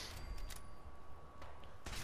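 Fireworks in the game Fallout 4 go off as a few faint, scattered pops and crackles, spaced out over a couple of seconds against a quiet background.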